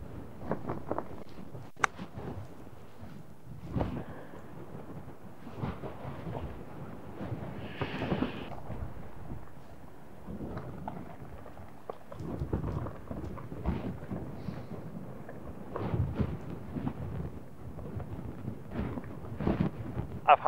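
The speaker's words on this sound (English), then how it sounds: "This wind is so hard to play in." Strong wind gusting across an open golf course, buffeting as a roaring, rumbling rush in uneven surges, louder bursts around the middle and end, with a few faint voices in places.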